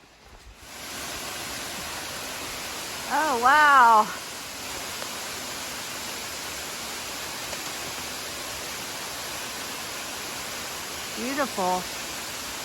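Jones Falls waterfall on the Appalachian Trail gives off a steady, full rushing roar that fills the whole stretch, while a person briefly speaks twice over the constant water.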